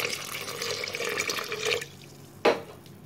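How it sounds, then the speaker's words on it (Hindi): Cold water pours and splashes steadily into a blender jar, then stops, followed by a single sharp knock or clunk. "ठंडा पानी ले लेना"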